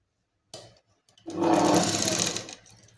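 A sewing machine runs a half-inch seam along a kurti shoulder: a brief burst of stitching, a short pause, then a steady, close, loud whir for about a second before it slows and stops.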